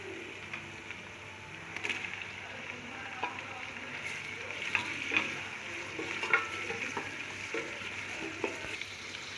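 Chopped tomatoes fry with softened onions in a pan for chana pulao, a soft, continuous sizzle with scattered light clicks and scrapes of stirring.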